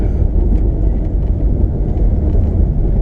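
A car driving off-road along a gravel woodland road on Buck Hill, raising dust, gives a steady, close, loud low engine and tyre rumble that continues without a break.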